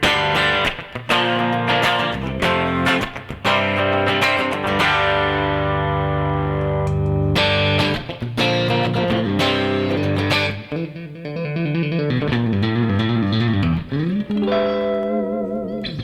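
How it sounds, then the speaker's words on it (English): Electric guitar through a drive pedal turned down for a light overdriven crunch, sustained chords and single notes ringing out continuously, loud and close with no voices. "you can just back that down, and now you got like that little bit of grit sound"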